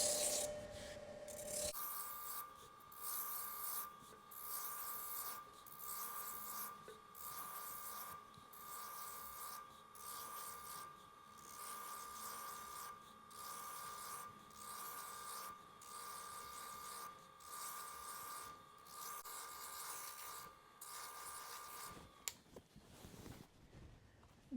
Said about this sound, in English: now I can get this sanded up here a little bit.